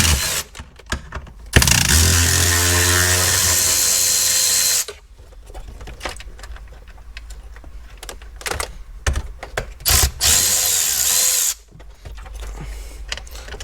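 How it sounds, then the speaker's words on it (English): A power tool undoes dashboard bolts in a Mercedes CLK W209, with a long sustained whir up close, then shorter bursts and clicks. "Now let's undo the other 2 bolts right here."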